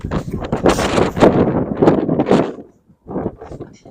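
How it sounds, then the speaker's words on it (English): Gusty wind buffets the microphone in loud rumbling bursts, dropping briefly before picking up again. "Oh my gosh, it's windy."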